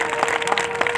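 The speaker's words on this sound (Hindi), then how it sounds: "एक बार जोर से तालियां" Brief burst of audience clapping at a large Hindu religious assembly addressed by a Shankaracharya in Moradabad, a quick scatter of claps over a steady hum, fairly near.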